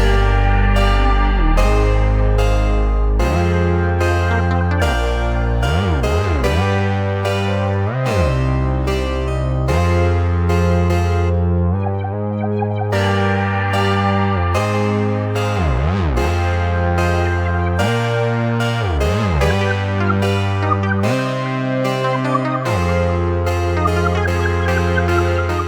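Remake of a track built from a whistle-like lead melody over deep analog synth bass, a looping synthesized arrangement playing continuously and alone, with a brief dip mid-way.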